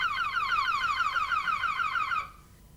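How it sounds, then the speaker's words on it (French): A Rover 800 MK2 car alarm sounds close and clear, a rapid repeating warbling tone that cuts off abruptly after about two seconds, leaving quiet. "l'alarme devrait se déclencher"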